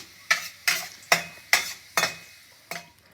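Raisins fry in ghee in a pan while a spoon stirs them in six distinct scraping strokes, each followed by a soft sizzle, close and clear with no talking.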